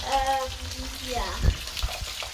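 Peri peri burger patties fry in a pan with a soft, steady sizzle that sits under a speaking voice, along with a few light clatters.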